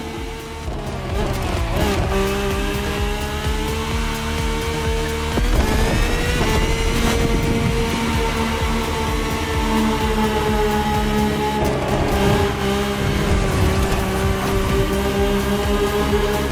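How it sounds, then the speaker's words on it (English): A rally car races on dirt in The Crew Motorfest, its engine droning loudly and steadily with rising and falling pitch as it shifts gears, accompanied by tire noise and a continuous racing backdrop. "The rally car has already changed its course to reach the dirt."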